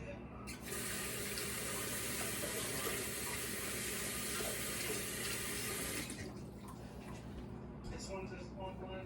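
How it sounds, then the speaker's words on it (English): Water runs from a kitchen tap onto hands being rinsed while baking red velvet peppermint mini bundt cakes, a loud steady gush for about six seconds before it is shut off. "Let me give my hands a quick rinse real fast."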